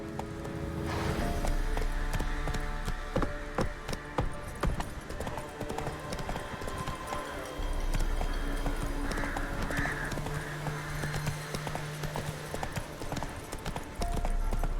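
Steady clip-clop of Roach's hooves as Geralt rides through The Witcher 3, a continuous rhythmic trot with a brief whinny, set against ambient game music and background sound.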